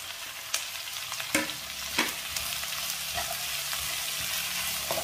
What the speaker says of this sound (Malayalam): സവാള ഒന്ന് നന്നായിട്ട് വഴന്നു വരണം.